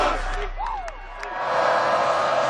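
Stadium crowd at a 2012 Oregon Ducks home football game against Arizona roars loudly and continuously, swelling into a sustained dense cheer with whoops over broadband noise.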